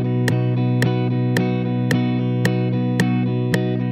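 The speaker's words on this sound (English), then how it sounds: "If the duration of each strum was eighth notes, or half a beat, it would sound like this." Guitar chords strummed in eighth notes, half a beat per strum, with a quick even pulse of strum attacks over sustained ringing strings, up close with no voices.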